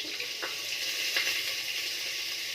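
Dried red chillies and bay leaves sizzling in hot oil, a steady close crackling hiss with a couple of sharper pops.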